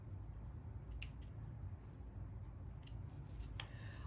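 Small scissors snip through a row of little craft flowers for a bling framed canvas, giving faint, sparse clicks over a steady low background hum, with no talking.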